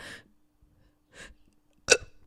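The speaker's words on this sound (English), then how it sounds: "I'm going to burp." One short, abrupt burp from a person who has just eaten toast; it lands near the end after a couple of faint breathy vocal sounds and some silence, close and fairly loud.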